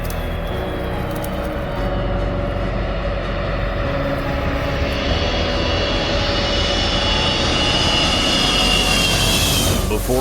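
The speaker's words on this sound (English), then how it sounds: "Ukraine's Mirya aircraft never failed to put a smile on children's faces" Engines of the Ukrainian Antonov Mriya aircraft roar in a loud, sustained jet drone that rises in pitch over time.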